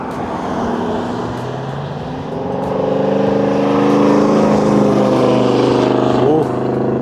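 A 1971 Pontiac LeMans T-37 drives past fast, its engine note climbing and swelling as it approaches, then peaking and shifting as it goes by, loud and close, with no talk over it.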